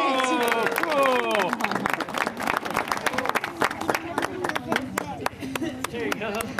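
An audience applauds at an outdoor show in Vancouver, British Columbia, a dense run of clapping from a crowd with whoops and cheering voices mixed in, fairly close and sustained throughout.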